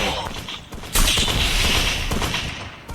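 Bursts of rapid video game gunfire crackle and thump, loudest in a dense volley near the middle, with a brief pause before another shot at the end.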